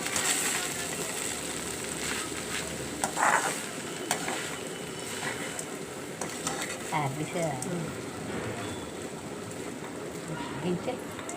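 A coconut and raw mango chutney mixture is stirred in a pan, giving soft scraping and sizzling textures with occasional clinks, while a person talks over it.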